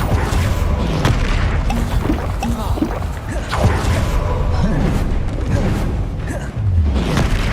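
Spells cast in the Hogwarts Legacy video game: dense, continuous magical blasts and whooshing impacts with booming low thuds, loud and close throughout, with a few game voice shouts over the combat.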